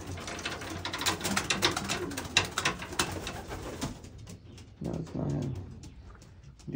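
Racing pigeons coo and flutter in a loft, with a dense burst of calls and movement at first that thins to sparse, softer coos.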